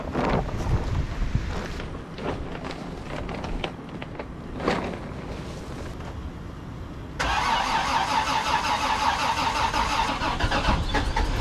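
A Toyota FJ40 cranks in the snow, with several seconds of uneven starter churning before the engine catches and settles into a loud, steady idle, with wind buffeting the microphone.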